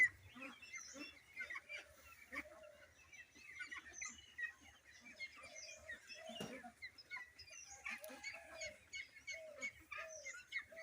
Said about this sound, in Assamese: এশ 75টামান আছে ইয়াত হাঁহ